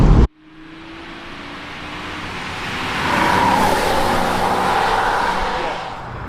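A Porsche Boxster is driven through corners, its engine a steady, close hum inside the cabin that swells and builds partway through before holding at a louder level, after a short abrupt cut at the start.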